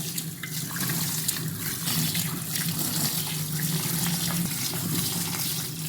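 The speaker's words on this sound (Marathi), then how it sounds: "तांदळाला स्वच्छ धुवून घ्यायचं" Water running steadily from a tap while rice is rinsed clean, a continuous close splashing wash with no talk.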